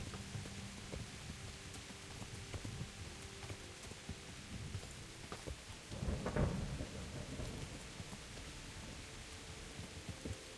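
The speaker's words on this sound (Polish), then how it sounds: "Jakaś gruba burza też się zrobiła, widzę." A thunderstorm with rain in the medieval game Kingdom Come: Deliverance, a steady hiss of rainfall under a low hum, with one deeper thunder rumble swelling briefly in the middle, all fairly quiet.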